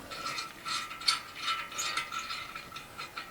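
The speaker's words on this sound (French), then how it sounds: "Puis on va prendre la clé 13. On va venir au fond. On va défaire." A 13 mm wrench ratchets steadily while undoing a bolt at the back of a larch masonry stove's heat accumulator, with rapid close metallic clicks and no talking.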